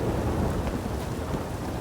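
Steady heavy rain with a low rumble of thunder in The Witcher 3: Wild Hunt, a dense continuous downpour with deep rolling undertones that fills the whole stretch without a break.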